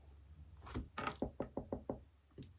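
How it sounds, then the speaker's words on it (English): Knuckles rap on wood in a quick run of about seven soft knocks. They are close but quiet, with nothing else heard. "knock on wood, it hasn't happened yet."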